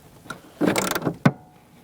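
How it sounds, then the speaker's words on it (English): A ratchet tightening a tail light nut on a 2008-2014 Mercedes-Benz C300, a short, close burst of clicking followed by a sharp knock, then quiet. "Get your ratchet on there."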